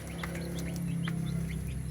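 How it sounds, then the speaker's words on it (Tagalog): Turkey chicks chirp and cheep in short, high peeps scattered over a steady low background hum, fairly close. "Nakakatayo na yung ating mga sisiyo ng pabo."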